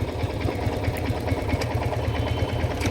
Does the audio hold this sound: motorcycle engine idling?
yes